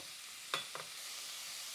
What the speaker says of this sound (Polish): Olej zaczyna nam tutaj już skwierczeć.